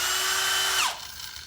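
Power tool whirring at high speed as it spins a nut off, a loud close whine that drops in pitch as the motor winds down, then quiet hum, no talking.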